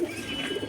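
Pigeons at a pigeon show in a Bhopal market give soft, steady cooing close by, a continuous low murmur with no talk over it.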